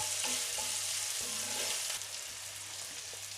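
Onions with cardamom, thyme and oregano are stirred in a pan, giving a steady close-up sizzle with soft scraping strokes and a low constant hum underneath.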